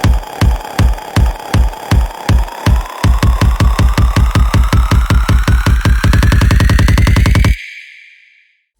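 Hybrid trap build-up in an electronic track: punchy kick and snare hits start spaced, then accelerate into a rapid roll while a tone sweeps upward, ending in an abrupt cut to silence with a brief fading tail.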